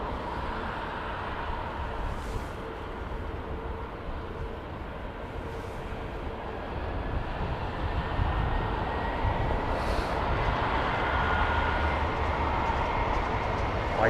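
Jet engines of an Air China Boeing 747-8i run with a steady, heavy broadband roar that swells louder in the second half, sustained and fairly close.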